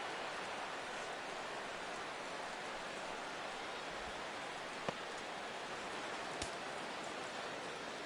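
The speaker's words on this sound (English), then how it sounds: "Well, it's really raining hard here tonight." Heavy rain in the MLB The Show 17 baseball game pours as a steady, soft hiss of broadband noise throughout, with a couple of faint clicks breaking through.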